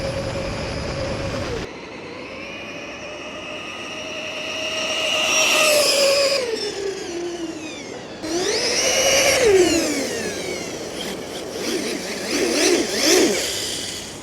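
An RC car running at about 50 mph gives a high electric whine that rises and falls in pitch as it speeds up and slows, passing close in several loud sweeps.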